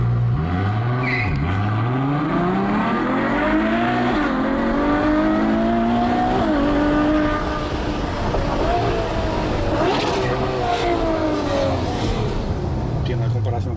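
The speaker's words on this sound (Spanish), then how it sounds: "Vamos a probar la aceleración" Ferrari FF V12 from 2014 accelerating hard, its engine note climbing through rising gear sweeps with brief dips at shifts, loud and close throughout, with some voice in the background.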